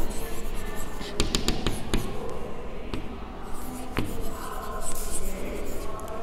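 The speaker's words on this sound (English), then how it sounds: "So let's write answer." A pen writes out a math answer on paper, making close, quick scratching strokes and taps in uneven bursts throughout.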